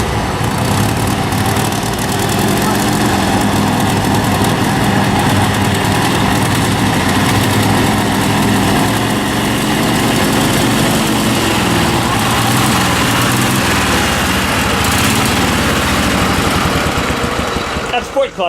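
A vintage 1941 TA shaft-drive motorcycle engine runs loud and close, chugging steadily at idle with a slight revving swell, while people talk over it.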